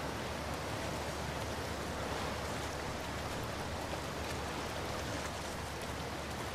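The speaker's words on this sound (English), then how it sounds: "it's a waterfall" Waterfall in The Last of Us Part II, a steady, dense rush of falling water that holds at an even loudness throughout.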